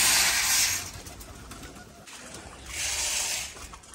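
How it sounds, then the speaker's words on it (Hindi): Pigeons coo softly amid a steady rushing hiss that swells at the start and again near the end, as they come down to pick up scattered grain. "सारे ही कबूतर यहाँ पर नीचे आ गए"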